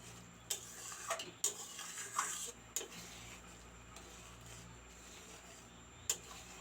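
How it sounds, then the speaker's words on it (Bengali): Yogurt is slowly stir-fried in a pan over low gas, giving a faint steady sizzle broken by a few sharp clinks of a spoon or spatula against the pan, with no voice. "দইটা দিয়ে আমি এবার ধীরে ধীরে কষাবো।"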